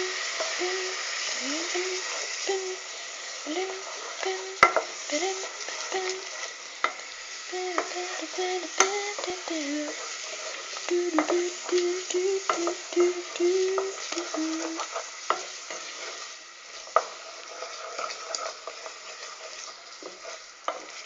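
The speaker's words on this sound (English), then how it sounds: "we add the onions. Now fry them off for a little second." Onions frying in a pan for lentil soup, a steady close sizzle with repeated stirring scrapes and clinks, occasional quiet voice in the background.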